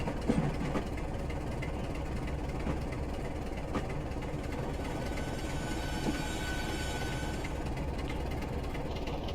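Class 27 diesel locomotive in Train Simulator Classic running between Yeovil Town and Lyme Regis, a continuous low engine rumble with rail noise, steady and unbroken throughout.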